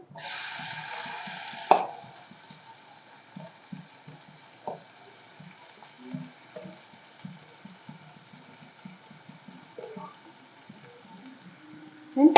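Onion pieces tipped into hot oil burst into a loud sizzle, then settle into quieter, scattered crackling and popping as they fry.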